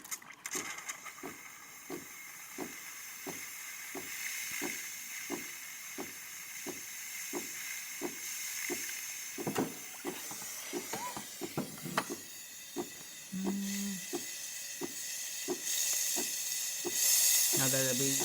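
Steam hissing from the steam wand of a DeLonghi Magnifica espresso machine as pressure builds, a steady broadband hiss over a regular ticking pulse from the machine, with brief clicks and a louder surge of steam near the end.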